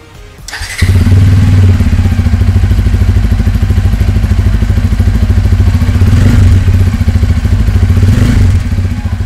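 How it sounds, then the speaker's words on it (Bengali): A Bajaj Pulsar N250 motorcycle fires up and idles loudly and close by, its exhaust throbbing in a steady, even pulse for several seconds with no one speaking. "এবার এক্সস্ট সাউন্ডটা এবার শুনে নিন"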